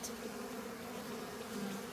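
Honey bees buzz at an open hive box during varroa treatment, a steady, close, continuous drone with no voices over it.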